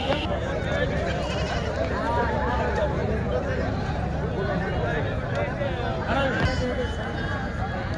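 Goats bleat repeatedly at a busy goat market, several animals calling near and far over a constant crowd babble with people talking throughout.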